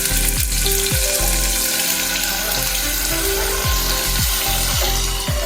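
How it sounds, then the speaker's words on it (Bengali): Paneer pieces fry in hot refined oil with a loud continuous hiss and bubbling, broken by repeated low scraping or shifting sounds from the pan every second or so. "তেল গরম হয়ে গেছে, এবার আমি পনিরগুলোকে এর মধ্যে ছেড়ে দিচ্ছি।"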